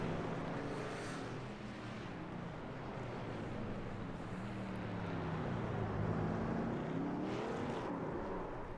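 Race truck engine roaring on the Chicago street course, a steady loud drone that rises and falls in pitch as the truck slows and picks up speed, with a broad noisy wash around it and no speech.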